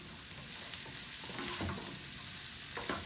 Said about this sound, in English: So now I'm gonna put the scallions in. So mix like this.